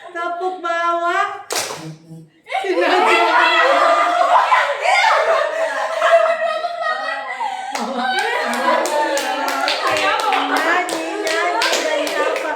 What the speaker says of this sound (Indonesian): Tepuk tangan. Tepuk kanan. Tepuk kiri.